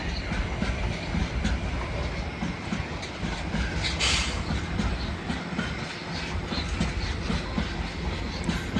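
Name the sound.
Class 701 train departing Clapham Junction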